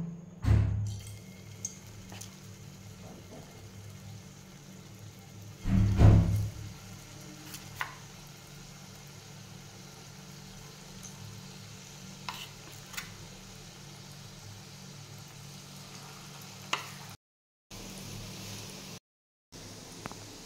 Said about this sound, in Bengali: এবার এটা মুসুর ডালগুলো যেটা বেটে রেখেছিলাম বড়ার আকারে ভেজে নেব।